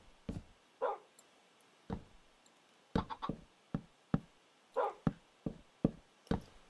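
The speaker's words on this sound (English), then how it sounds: "Dogs, chickens. That's all I hear." Minecraft dogs give short, sharp barks one after another in an irregular rhythm, fairly close, with a few knock-like thumps between them and no talking.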